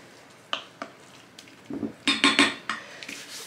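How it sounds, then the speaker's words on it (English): A spoon stirring thawed food in a kitchen bowl, making a short run of close clinks and scrapes that grow busier toward the end, with no voices. "And I'm going to stir them up a little bit."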